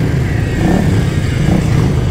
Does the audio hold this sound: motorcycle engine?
yes